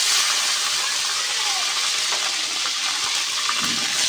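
Ground spice paste hitting hot oil in a pan while cooking a silver carp and pointed gourd curry, a loud close burst of hissing sizzle that carries on steadily for a few seconds.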